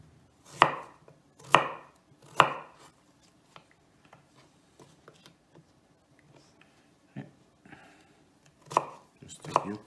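A knife chops food into small cubes on a board: three sharp, evenly spaced thuds, a quiet stretch of faint ticks, then a few more chops near the end.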